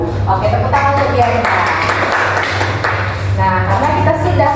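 Students in an Indonesian secondary-school classroom break into a short burst of hand clapping that rises and fades within a couple of seconds, while a teacher's voice talks before and after it.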